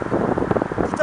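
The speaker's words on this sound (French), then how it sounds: "Et là il y a grave du vent." Strong wind gusts buffet the microphone outdoors on a road trip through France and Spain, a steady broadband rush with low rumbling thumps through the whole second.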